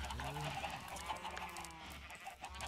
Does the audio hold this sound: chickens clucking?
yes